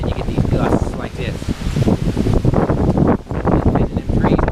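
Strong gusts of hurricane wind buffet the microphone at night, surging and dropping in rough bursts with a steady roar beneath, while someone talks over them.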